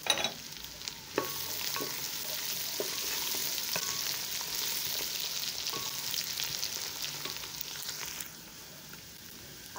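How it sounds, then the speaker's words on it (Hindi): Onion, ginger, garlic and whole spices fry in a pan for chana pulao, a continuous close sizzle with occasional sharp ladle clicks and scrapes as the mixture is stirred. "अब ये प्याज भून चुका है।"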